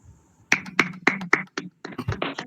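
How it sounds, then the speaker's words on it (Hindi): Sparse handclaps from a small audience at a Hindi poetry gathering: a few sharp, evenly spaced claps, then a looser, irregular patter of claps, close and fairly loud. "मैं सभी से अनुरोध करता हूं कि एक बार तालियों से"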